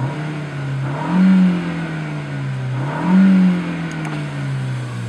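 An Audi A4 1.8 turbo engine idles with a low steady drone and is revved twice, each rev swelling and falling back, loud and close.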